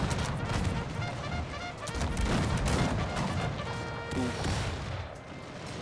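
Massed musket volleys from American Civil War infantry in a battle game at Fort Wagner, a dense continuous roar of overlapping gunshots and crashes, loud and close, with a brief grunt from a voice.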